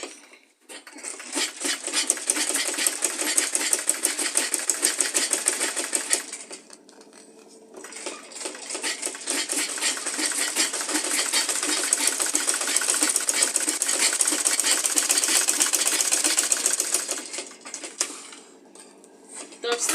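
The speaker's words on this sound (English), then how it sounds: "you fold again and top stitch" A sewing machine top stitches a leather purse in two long bursts of rapid, even needle clatter, separated by a short pause with quieter handling sounds.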